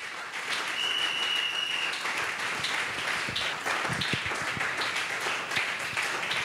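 A church congregation applauds steadily for several seconds, a thick wash of many hands clapping, with a brief whistle-like tone early on and a few scattered voices.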